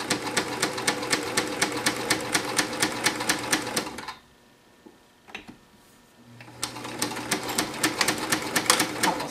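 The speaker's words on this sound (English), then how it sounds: "put my needle down into that column, lower my pressure foot, and gently give it a little bit of length and let it go" A sewing machine stitches a reinforcing line down a column of a knitted steek, with a rapid, even needle clatter, close and steady. It pauses for about two seconds amid small handling clicks, then resumes at the same pace.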